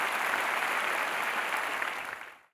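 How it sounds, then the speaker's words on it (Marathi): Congregation in a church clapping together, a dense steady burst of applause filling the room, sustained for a couple of seconds before fading out quickly at the end. "असं म्हणणारे टाळ्या वाजवा"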